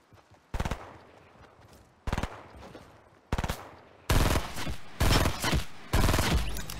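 FAMAS gunfire in Fortnite mobile rings out in short, loud bursts, with three separate volleys followed by longer, denser strings of rapid shots close up.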